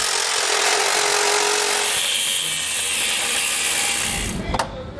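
A hand saw or power saw cutting through a steel base plate during a Blue Ox base plate installation on a 2021 Subaru Crosstrek, with a steady, loud, close grinding rasp that tapers off near the end.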